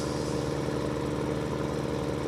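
Farming Simulator 2013 tractor engine driving at speed, a steady loud droning rumble with a low harmonic hum throughout, no pauses or talk.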